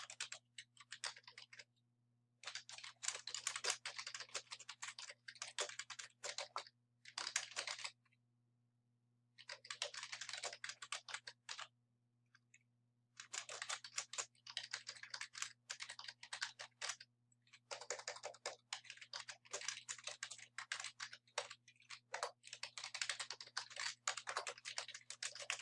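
Keys clatter on a computer keyboard in quick bursts as a note is typed, with several pauses between runs of soft, close clicking over a faint steady hum.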